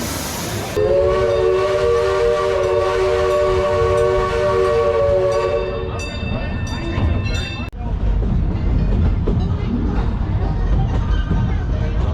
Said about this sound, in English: Seems like a good time to ride the train this afternoon.